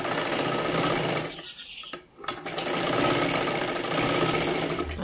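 A sewing machine stitches a boat-neck katori blouse with a steady, loud mechanical whirring, briefly pausing with a faint click before running continuously again.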